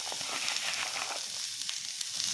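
Cluster beans dry-roasting in a hot pan give a continuous close hiss with faint crackles throughout, and no talking.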